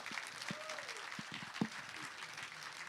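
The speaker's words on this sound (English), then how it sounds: "Can you give all of them a round of applause" An audience at a session on legal education in Niger claps after a talk, a faint and distant patter of applause in a large room with a few louder claps.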